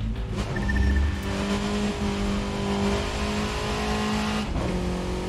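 A tuned VW Golf GTI accelerates hard on a road trip across the US, its engine note rising and holding loud and close through the gears with a brief shift dip near the end, with no talk.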